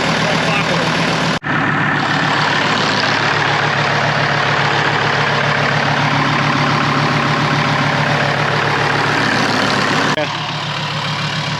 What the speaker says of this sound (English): Can you hear the pump?